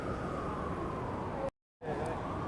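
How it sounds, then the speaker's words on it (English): An emergency vehicle siren wails faintly along a New York City street, a distant steady tone over city noise that cuts out briefly and then returns. "Sirens. They are no joke."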